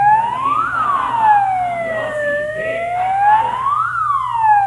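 An alarm siren wails at a public health event, sweeping up and down in long rising and falling cycles, loud and close with a low steady hum beneath and no talking.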